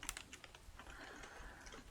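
Quick, light keystrokes on a computer keyboard during a live digital painting session, a brisk irregular run of soft clicks, quiet and close, with no voices.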